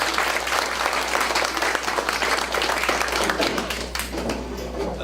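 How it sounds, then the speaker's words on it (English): An audience at a patient healthcare forum applauds Teresa Armstrong, thick continuous clapping from a packed room, loud and steady, easing slightly near the end. "a big round of applause for Teresa Armstrong"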